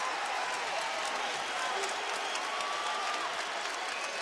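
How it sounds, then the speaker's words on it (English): A basketball arena crowd cheers and applauds for the UNLV Rebels during a game against New Mexico, a dense, steady roar of noise filling the room throughout. "Crowd trying to urge the running Rebs back."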